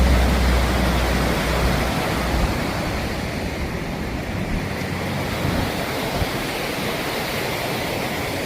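A river in flood rushes loudly and continuously under a bridge, a broad roaring wash of water that is heavier at first and then settles into a constant torrent.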